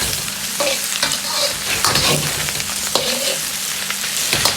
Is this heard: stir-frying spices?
yes